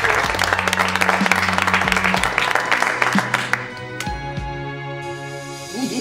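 A studio audience gives sustained applause as a guest is invited in, dense clapping for about four seconds before giving way to swelling music with a few claps lingering.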